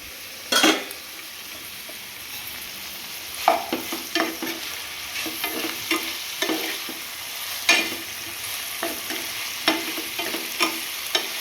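Salted tomatoes are stirred in a pan for chola curry, with repeated scraping strokes and utensil knocks spaced irregularly over a soft background sizzle, close and clear.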